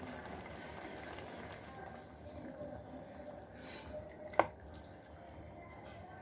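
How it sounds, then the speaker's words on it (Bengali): Coconut milk pours into a simmering fish curry, a faint, steady liquid trickle over a low kitchen hum, with one sharp click partway through. "এখন দেব আমি কোকোনাট মিল্ক।"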